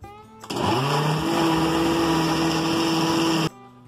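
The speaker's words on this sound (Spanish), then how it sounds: "Y vamos a licuar." A blender whirs steadily at full speed for about three seconds, blending an oat drink mixture with powdered ingredients, starting and stopping abruptly, loud and close.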